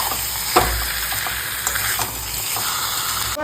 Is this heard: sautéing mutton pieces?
yes